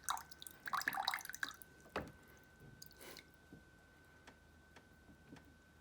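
Water dripping from a mobile air-conditioning unit during routine maintenance: a few soft, separate drops and small splashes land in the quiet, clustered at first and then spaced out, with faint handling noise in between.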